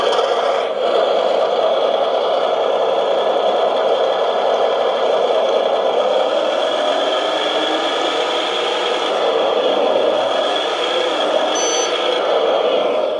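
Custom 1/14 scale RC dump truck's onboard sound system playing a continuous simulated diesel engine rumble with electronic tones, steady and close with no speech, a brief beep-like horn cue near the end.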